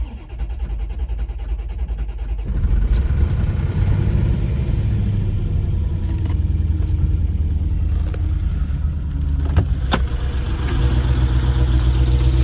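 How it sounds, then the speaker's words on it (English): A Corvette C4 ZR-1 engine, unstarted for 18 years, cranks briefly and then catches into a loud, rough, steady idle rumble, with a few clicks and knocks over it. "First start in 18 years."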